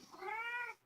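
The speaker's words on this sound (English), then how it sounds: "My cat at the moment wants attention." A cat gives a single close, drawn-out meow for attention, lasting under a second and heard on its own.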